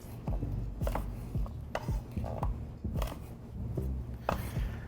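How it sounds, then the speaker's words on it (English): Knife chopping apples into thirds on a cutting board after coring, a steady run of sharp, close chops at an uneven rhythm, with no talking. "from here, we're going to cut them into thirds"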